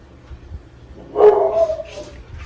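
A single dog barks once nearby, a short yelping bark followed by a faint whine, over quiet room noise.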